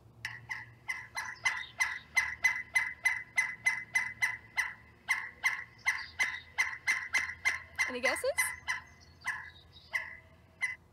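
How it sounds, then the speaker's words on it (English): A pileated woodpecker calls outdoors in a long series of loud, ringing, evenly spaced notes that carry for several seconds, a brief pause breaking the run near the end, and a person speaks briefly in between. "if you guessed the pileated woodpecker, you would be correct"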